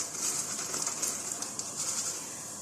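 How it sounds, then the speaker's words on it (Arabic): Onions frying in hot oil in a home kitchen for Egyptian koshari, giving a steady, close sizzle with dense crackling throughout and no talk over it. "بصوا صوت القرمشه."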